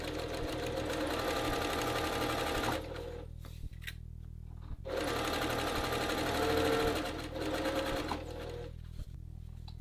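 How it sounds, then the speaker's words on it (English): A sewing machine stitches a men's dress shirt placket about a sixteenth of an inch from the edge, running in two steady near bursts split by a short pause, with a low constant hum beneath. "So I'm going to sew the placket into place about a 1/16 of an inch away from the edge."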